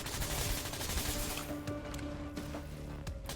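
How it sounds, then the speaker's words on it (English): Rapid rifle fire in the shooter game Quantum Break, a dense continuous burst of shots with game effects layered throughout, loud and steady. "Eikä oo, kun tää on joku ihme rifle."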